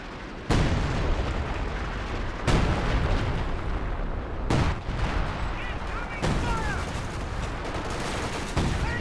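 Heavy artillery barrages in Company of Heroes 2, a few big booming blasts spaced seconds apart over a constant rumble of battlefield noise, loud and close.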